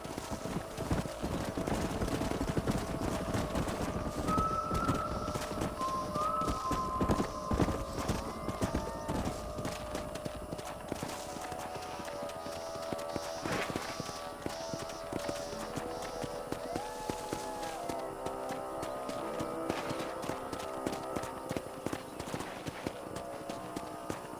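Horses from the video game Red Dead Redemption trot and run on a ranch, with steady clip-clop hoofbeats throughout, an occasional whinny, and faint background game sounds.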